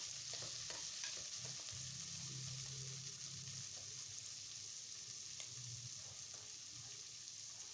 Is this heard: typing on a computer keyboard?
no